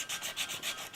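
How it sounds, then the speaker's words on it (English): Emery cloth scuffing the inner drum surface of a Honda motorcycle brake, making quick abrasive back-and-forth strokes with a soft, hissy rasp. The strokes come about four times in a second, close and fairly quiet. "scuff and clean the inside of the brake surface"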